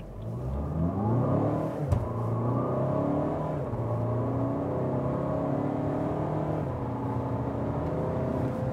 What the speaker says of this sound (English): hammer the throttle and see, you know, what is really this great acceleration here with a BiTurbo diesel